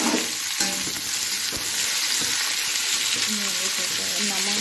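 Pumpkin frying in a pan with fenugreek for a sabzi, a steady loud sizzle with stirring scrapes and clatter throughout, no one speaking.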